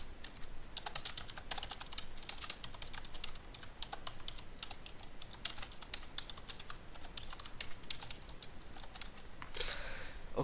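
Keys clatter steadily on a computer keyboard as a server description is typed in at a PC, a continuous run of quick, fairly faint clicks with no voices.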